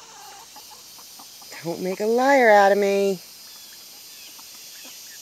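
Free-range backyard hens on a small homestead, one loud drawn-out cluck close by with a few softer clucks around it, while someone speaks briefly.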